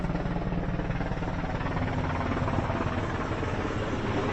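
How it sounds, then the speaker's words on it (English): A helicopter passes overhead at a firefighting event, its steady rotor thump and engine roar loud and continuous throughout, with no voices. "We have a helicopter coming by"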